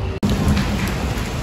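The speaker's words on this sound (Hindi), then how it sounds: "मस्त बारिश हो रही है। देखिए कितनी तेज होने लगी," Heavy rain pours down in a loud, steady hiss during the rainy season, broken by a brief dropout near the start.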